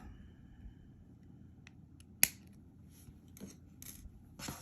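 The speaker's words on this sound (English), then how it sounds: "And then I'm going to trim that wire off." Cutters snip jewelry wire on a beaded earring, one sharp close click amid quiet handling and faint rubbing of wire and beads.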